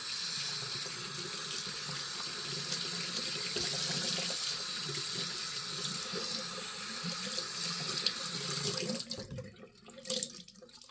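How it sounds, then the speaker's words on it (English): Tap water runs steadily into a sink while a lathered shaving brush is rinsed, a continuous close hiss that cuts off near the end, followed by a few faint splashes. "let's rinse the brush out right quick"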